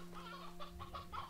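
An elder hen in the game Slime Rancher 2 clucks in a string of soft, short, rhythmic calls over a steady electronic hum, faint and alone with no talking.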